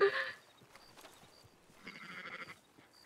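Sheep bleating in a western roleplay video game, two short, faint bleats separated by a pause, heard alone without talk.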